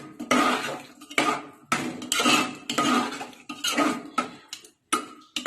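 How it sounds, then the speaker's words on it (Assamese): Metal spoon scraping and clinking steadily against a bowl as a tomato and spice mix is stirred with hot water, continuous rhythmic clatter close by. "এইখিনি মই ভালদৰে লৰাই দিম"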